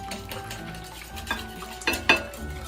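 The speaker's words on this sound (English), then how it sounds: "And then we can mix that together" Eggs and paprika whisked together for a frittata: a quiet steady mixing rustle, then a few sharp metallic clinks of utensil against the bowl near the end, close by with no voices.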